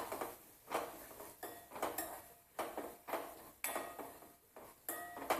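A spoon stirs and scrapes asafoetida and turmeric in a metal pan while cooking vada pav filling, making rhythmic clinks and scrapes about once a second, close and fairly quiet.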